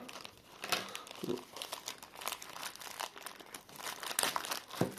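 A small postal parcel from an online auction holding a Soviet-era silver earring is torn open by hand; crinkling, crumpling plastic and paper packaging crackles up close in repeated bursts with brief sharp rips.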